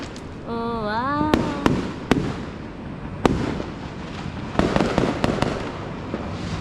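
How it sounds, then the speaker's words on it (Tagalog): Fireworks exploding during a Christmas celebration in the Philippines, a series of sharp bangs and crackles, some near and loud, others farther off, with a whistling rise early on and people talking in the background. "Oh, hala, ang ganda ng paputok."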